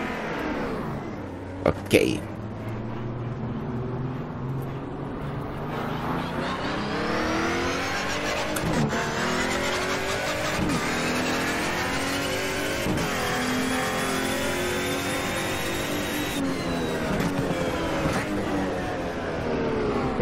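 BMW M3 E92 engine in rFactor at Monza, revving and accelerating steadily through climbing gear sweeps with sharp shift breaks, loud and continuous, with a brief spoken word early on.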